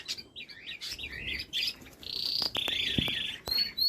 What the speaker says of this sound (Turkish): bunlar küçük cüce bıldırcınlar